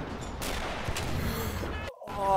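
Rifle gunfire in the video game Arma: a dense, crackling volley of shots rolls on steadily, then cuts out abruptly for a moment before other game sounds swell back in.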